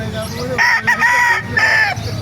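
Close, loud roosters crow at a chicken market in Calumpit, Bulacan, with two overlapping crows heard back to back over background murmur.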